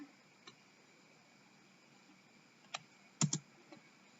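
Keystrokes on a computer keyboard during a database exercise, a few quiet isolated clicks ending in a sharper double tap like the enter key, over faint background hiss.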